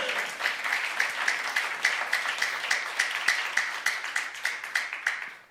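A church youth congregation claps together in a steady, rhythmic beat, about four claps per second, moderately loud and close, with no talking over it.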